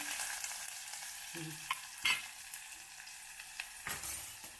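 Curry leaves and chopped onions hit hot oil in a pan for brinjal palya, a bright crackling sizzle with scattered spattering pops and a few light utensil clinks.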